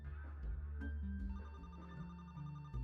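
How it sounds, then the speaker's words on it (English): A ringing telephone in the video game The Roottrees Are Dead trills in repeated electronic bursts, steady and fairly quiet, with no voices over it. "The phone's ringing."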